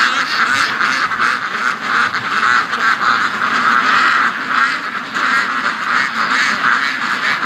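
A big flock of domestic ducks keeps up a loud, constant quacking chorus nearby, many calls overlapping in uneven bursts for several seconds.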